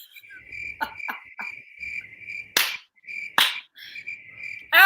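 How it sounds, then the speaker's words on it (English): Crickets chirp in a steady, continuous trill close by, broken by several sharp slaps or taps and rustling bursts. "Oh, you guys are feeding the crickets?"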